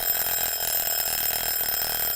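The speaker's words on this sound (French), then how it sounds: "Marc prend son vieux minuteur de cuisine, dont il a détourné l'usage." An old kitchen timer rings continuously with a loud, dense metallic bell clatter that fills the whole stretch without a break.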